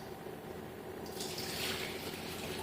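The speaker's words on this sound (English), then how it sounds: "See if I can pour this boiling water into something else." Boiling water poured from one container into another beside an induction cooker, a soft continuous liquid splash that grows brighter midway, quiet and close.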